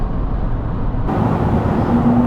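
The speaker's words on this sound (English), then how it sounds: "the road noise isn't too bad" Steady low road roar and tire hum inside a Ford Expedition Timberline SUV cruising at about 75 mph on the highway, constant and moderately loud, with a faint engine tone; no talking.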